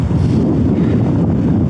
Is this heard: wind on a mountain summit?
yes